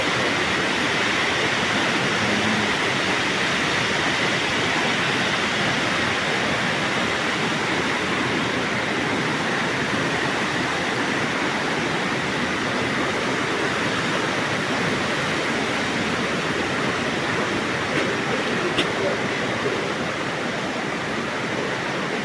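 Chernigovka waterfalls and river in Abkhazia roar with a steady, dense rush of falling water, loud and unbroken throughout with no voices.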